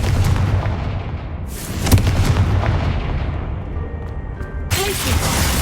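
A Confringo fire-blast spell from the video game Hogwarts Legacy goes off with a loud booming burst near the two-second mark, set over a continuous rumbling, crackling game soundscape, and a sharp bright blast follows near the end.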